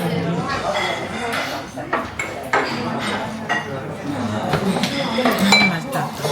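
Glasses and tableware clink at a restaurant meal of black pork tonkatsu in Kumamoto, with sharp chinks and plate clatter scattered over a steady murmur of voices and dining-room bustle.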